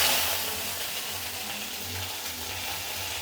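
Dried red chillies and curry leaves crackle in hot oil for a Tamil dal curry, a soft steady sizzle with a faint low hum underneath, no voices.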